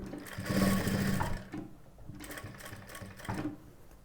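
A sewing machine stitches fabric up close in short bursts of rapid, rhythmic mechanical clatter, the pace swelling and easing as it runs, with brief pauses between the runs.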